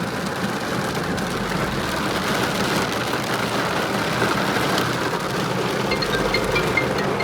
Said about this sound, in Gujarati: સરસ વરસાદ પડે છે, જબરદસ્ત.